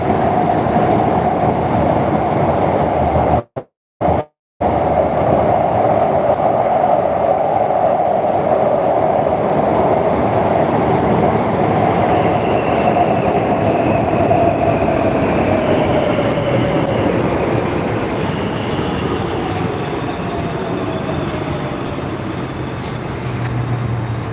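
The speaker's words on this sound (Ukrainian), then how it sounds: "Зараз ми їдемо в метро." A Warsaw metro train rides along in a loud, continuous rumble with a faint rising whine, and the sound cuts out briefly near the start; no one talks.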